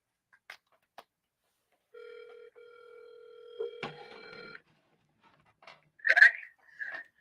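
A phone call placed from a telephone, heard as a steady dial or ringback tone followed by a short burst of electronic tones, with a brief voice near the end.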